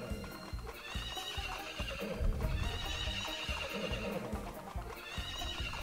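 Horses whinny and gallop with steady clip-clop hoofbeats during a horse race in the farming game Story of Seasons: Friends of Mineral Town, continuous under game music.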